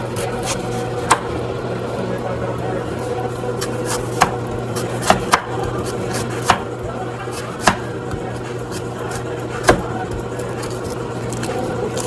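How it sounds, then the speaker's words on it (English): Knife chopping sweet potatoes on a cutting board for a chicken stew, several sharp separate knocks spaced irregularly over a steady low kitchen hum, close and fairly clear. "Some of these are big, so I'm going to cut them again this way."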